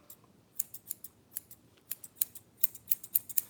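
Scissors snipping hair during a haircut, a quiet series of crisp, close snips in irregular quick bursts, about a dozen cuts with a faint background hum.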